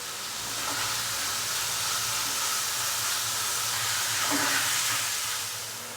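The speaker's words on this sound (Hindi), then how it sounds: "अभी हम इसको अच्छे से मिक्स कर लेंगे और चिकन को भून लेंगे हाई फ्लेम पे 3 से 4 मिनट के लिए" Pieces of chicken fry over a high flame with garlic and butter for fajita-style rice, giving a loud, continuous sizzling hiss that swells and eases slightly.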